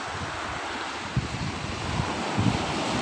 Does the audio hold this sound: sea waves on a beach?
yes